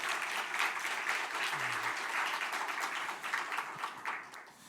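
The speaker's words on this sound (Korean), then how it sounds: "우리 다시 한번 우리 하나님께 영광의 박수 올리시겠습니다." Applause from a church congregation during a worship service, a dense steady wash of many hands clapping that stays fairly even for several seconds and eases slightly toward the end, with no talking over it.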